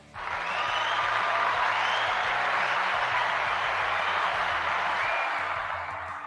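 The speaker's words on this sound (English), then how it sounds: "Big round of applause." A small audience gives a steady, even round of clapping that lasts several seconds and then tapers off, with soft music playing underneath.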